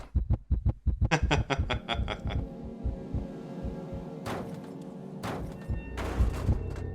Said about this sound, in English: It's a lot more immersive to hear your heartbeat in your ears.